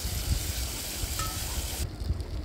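Onion browned in hot oil in a pan, with ginger-garlic paste added, sizzles and fries steadily with a broad continuous hiss and occasional stirring, close and moderately loud, then the high hiss drops away near the end.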